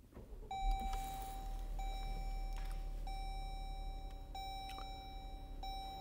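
Push-button ignition of a gray 2017 Jeep Grand Cherokee: a low engine rumble rises and settles into a steady idle while a series of clear dashboard chimes ring out at regular intervals, quiet and close.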